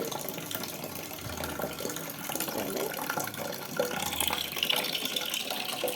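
Steady running water pouring into a bucket to collect drinking water, a continuous splashing trickle at close range, with no talk over it.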